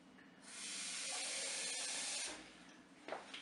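Hot water pours steadily into a Cookeo pot for pasta with paprika chicken, a continuous close hiss for about two seconds, ending with a few faint clinks.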